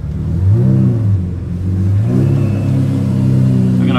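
A 6-speed Lamborghini Murcielago engine revs loudly up close, its pitch climbing and falling in two distinct sweeps before holding at a raised, whirring level.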